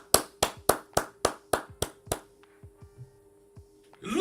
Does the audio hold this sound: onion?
no